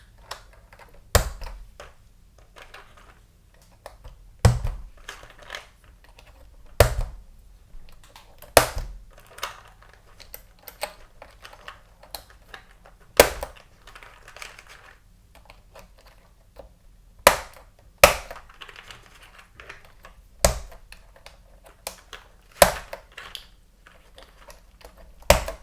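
Crisp, separate clicks from blank-keycap keys on a mechanical keyboard, pressed one at a time at an irregular, unhurried pace, close and distinct against a quiet background.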